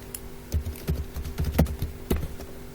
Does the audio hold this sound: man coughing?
no